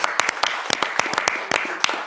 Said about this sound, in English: Yes, give him a round of applause, everyone.